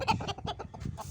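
Backyard chickens cluck in a quick run of short, close, rhythmic calls, about half a dozen clipped notes in just over a second, with no talk over them.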